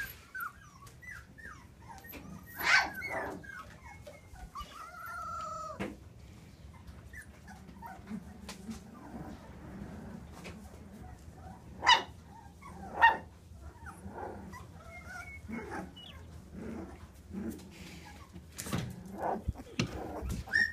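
Several young Texas Heeler puppies whimper, yip and bark softly from close by, in scattered bursts with a few sharper barks among quieter whines.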